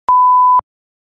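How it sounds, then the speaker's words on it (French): A camera gives a single loud, steady electronic beep lasting about half a second as it stops and prepares to start a new clip, sounding alone with no talk. "quand elle s'arrête et qu'elle recommence un autre clip, elle te bip, elle te prévient qu'elle va le faire en fait"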